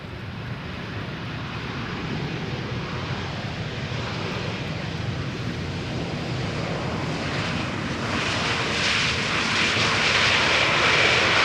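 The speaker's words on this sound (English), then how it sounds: "2 hours 59 minutes it has flown, now touching down" An airliner arriving from Kalamata, Greece touches down at Amsterdam Schiphol's Polderbaan runway, a steady broadband engine roar that swells louder toward the end as it nears, with no talk over it.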